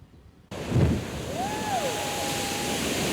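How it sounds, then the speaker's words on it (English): Water pumping into the new C-44 reservoir in Martin County, a broad steady rushing roar like surf that starts abruptly after a short quiet moment and holds on loudly, with a faint rising whine over it. "The water started pumping into the new C-44 reservoir to the delight of many who dreamed of this day"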